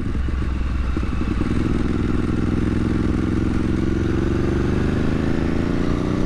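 A Vyrus 985 4V C3 motorcycle engine runs steadily and loud throughout, its deep throb holding an even idle with a slight rise in pitch partway through.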